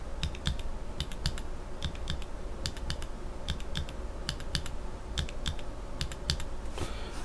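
Typing on a mechanical keyboard with Panda switches fitted with Cherry or Sky tops, giving quick irregular clicky keystrokes in steady bursts, close and clear with no talking.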